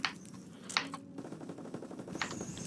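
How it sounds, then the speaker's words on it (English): Rapid automatic gunfire from a machine gun in the Call of Duty WW2 Zombies video game, crackling bursts layered over continuous game noise, with a few sharp louder shots standing out near the start. "Hey, someone's got a machine gun."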